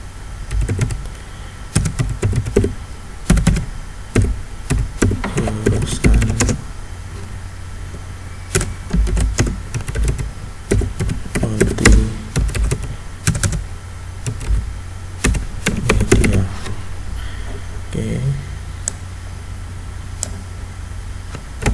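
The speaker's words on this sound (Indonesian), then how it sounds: "Oke, sini kita ketikkan" Keys clatter on a computer keyboard while text is typed into a Microsoft PowerPoint slide, irregular bursts of close clicks with short pauses between runs.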